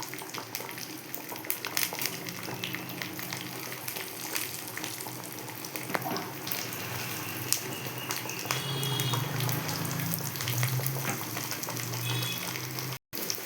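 Chopped onions hit hot oil with popping mustard seeds for a South Indian sambar, giving a continuous loud sizzle with crackling bursts that swells and intensifies partway through.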